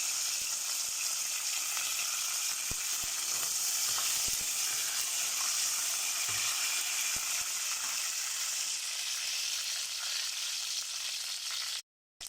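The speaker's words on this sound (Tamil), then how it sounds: "கடுகு பொரிஞ்சு தான் கருவேப்பிலை போட்டுக்கலாம்" Mustard seeds and cumin crackle and sizzle in hot oil in a pan, a steady, close frying hiss with scattered tiny pops that runs for about twelve seconds before cutting off abruptly; no voices.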